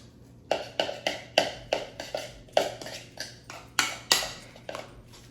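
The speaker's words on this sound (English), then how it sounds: "I'm going to give this a good mix." A spoon clinks rhythmically against a bowl while salt and black pepper are mixed into calzone filling, a dozen sharp taps and scrapes close by with no talking.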